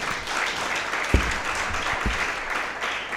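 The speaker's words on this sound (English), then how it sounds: "A bigger round of applause." An audience claps at a benefits launch event, a full, steady round of applause with a couple of sharp low thumps standing out partway through.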